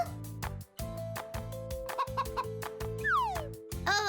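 A cartoon hen clucks repeatedly over busy cartoon music with whistles and a sliding tone, the clucks rhythmic and fairly close.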